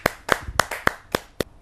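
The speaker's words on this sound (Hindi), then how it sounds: "जोरदार तालियों के साथ हम टिल्लन वर्मा जी की हम कविता का श्रवण करने जा रहे हैं।" Six distinct, evenly spaced claps ring out close and crisp at a Hindi poetry gathering, a slow deliberate rhythm from one or a few pairs of hands rather than a full crowd.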